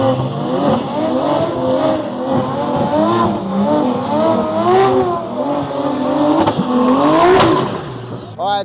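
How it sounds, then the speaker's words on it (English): A drag-race car does a burnout in the left lane, its engine revving hard and loud with screeching tire squeal, sustained for several seconds before cutting off. "left lane right here, about to do his burnout"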